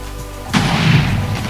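A single heavy boom from an automatic dispenser TNT cannon firing in Minecraft, triggered by a redstone circuit, sudden and loud, with a rumbling blast tail that lingers for a second.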